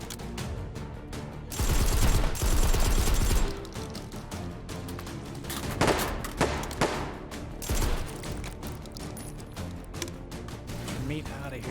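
Suppressed shotgun fire in the VR game Hot Dogs, Horseshoes & Hand Grenades comes as repeated muffled thumping shots and clattering reload mechanics, with a dense burst of fire early on, while someone talks intermittently.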